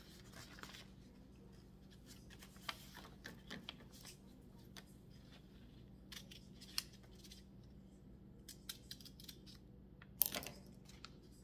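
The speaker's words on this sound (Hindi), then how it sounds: "हम इसको थोड़ा सा ऐसे क्यूट सा कट देंगे" Scissors cutting craft material for a handmade Father's Day gift, sparse crisp snips and clicks scattered over a quiet background with a low steady hum, louder near the end.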